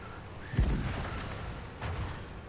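A tank cannon fires once at close range in World of Tanks, a single heavy boom followed by a fading rumble. A quieter thud comes later.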